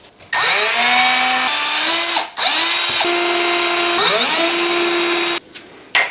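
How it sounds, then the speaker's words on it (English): A power drill whines loudly as it bores into a wooden front door, its pitch rising and dropping in several long bursts with brief pauses between. "I'd rather just drill a hole"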